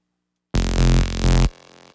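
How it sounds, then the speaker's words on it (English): A brighter, higher-pitched trance synth bass layer sounds one loud, harsh, noisy note of about a second, pulsing slightly, then drops to a fainter tonal tail that fades out. "And bass 4 sounds like this."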